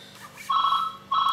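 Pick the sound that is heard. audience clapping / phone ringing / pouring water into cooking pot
phone ringing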